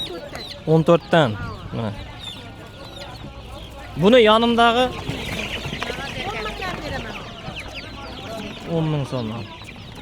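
Ducks for sale at a poultry market in Beruniy, Uzbekistan, give short bursts of loud, close calls and quacks. People talk and bargain over the birds between the calls.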